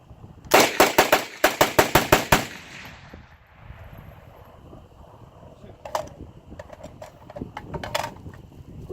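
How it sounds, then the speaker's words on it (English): A custom AR-47 rifle fired rapidly, with about nine sharp, loud shots in a quick even burst, followed by quieter mechanical clicks and scattered softer noises. "Alright, I'm gonna rapid fire this thing."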